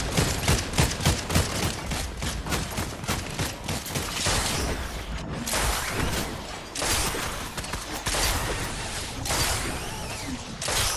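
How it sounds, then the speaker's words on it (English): Continuous gunfire in the video game Fortnite, dense rapid bursts and volleys running through the whole stretch, loud and close with no pauses. "No matter where you at, they were still shooting at you."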